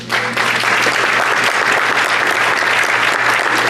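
Loud, dense applause from a large audience fills the space continuously from start to finish, close and steady with no voices standing out.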